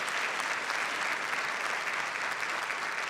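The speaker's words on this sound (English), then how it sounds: "Let's give them a round of applause." An audience at a district State of the District event gives a steady round of applause, a dense, even patter of many hands clapping throughout, moderately loud and unbroken by voices.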